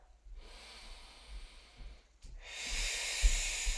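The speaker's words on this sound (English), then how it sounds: "take 2 deep breaths to find my abdominal connection" Deep breathing during a strength flow exercise class: a slow drawn-in inhale, a brief pause, then a longer, louder breathy exhale, close to the microphone.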